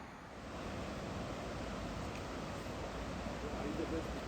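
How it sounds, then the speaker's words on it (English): A torrent of blue water cascades over rocks beneath a bridge in the village of Skjolden, Norway, making a steady, loud, broad rushing roar that holds constant throughout. "you get a dramatic view of the torrent of blue water cascading over the rocks"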